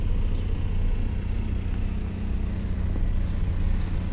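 A Chevrolet Blazer/S10 engine idles steadily with a continuous low rumble, close and even throughout, with no talk over it.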